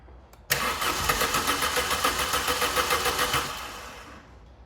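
A Vauxhall Calibra with a suspected failing fuel pump cranks and fires abruptly, then runs with a loud, evenly pulsing engine note for a few seconds before the sound fades away, no talking.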